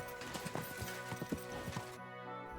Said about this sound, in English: I did not think the horse would actually clear that